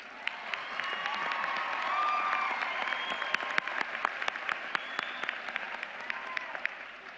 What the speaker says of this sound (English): Give yourself a round of applause for waiting this 12 long years.